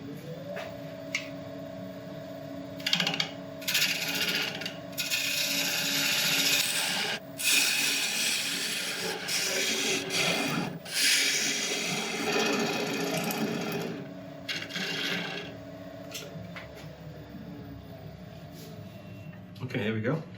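A wood lathe spins a wooden blank at about 900 RPM during a woodturning session, giving a steady, loud motor hum with a rough cutting and scraping texture that runs throughout, broken by a few brief knocks.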